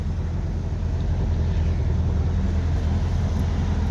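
A car engine runs while the car is driven, a steady loud low rumble with road noise and no change in pace throughout.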